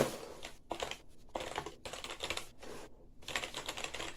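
Quick bursts of clattering keystrokes on a compact 60% RGB plastic gaming keyboard, close and crisp, coming in rapid runs separated by short pauses.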